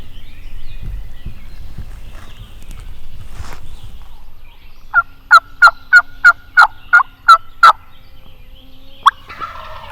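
A wild turkey gobbles in a quick burst of about eight rattling notes, fairly close, after a low rumbling stretch, with a short call near the end.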